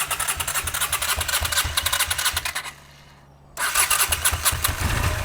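A Honda CX500 motorcycle abandoned for 42 years cranks and catches, its loud, fast-pulsing engine running, dropping briefly to near silence, then firing again into a rough, steady idle.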